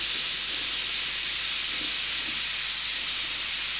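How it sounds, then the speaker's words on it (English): An airbrush sprays a light mist of paint as a steady, continuous close hiss with no pauses, alone without talk. "I'm just going to mist this area, okay, with a very light mist"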